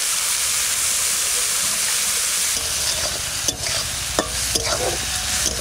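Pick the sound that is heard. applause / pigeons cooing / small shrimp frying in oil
small shrimp frying in oil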